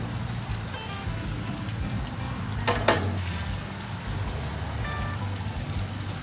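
Continuous sizzling and crackling of lumpia or gyoza deep frying in hot oil, with a brief louder spatter burst partway through as liquid leaks into the oil.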